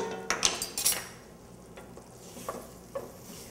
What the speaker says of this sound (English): Notice how I'm going from pot to pot stirring.